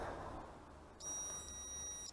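A multimeter's continuity beep, testing a fuse in a Renault Clio II, starts abruptly after a second of quiet room noise and holds as a steady high-pitched tone with slight pulsing.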